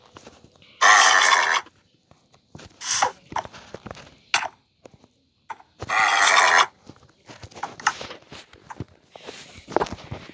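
A horse gives two loud, close bursts of snorting or whinnying a few seconds apart, with scattered hoof steps and shuffling in the quiet gaps between.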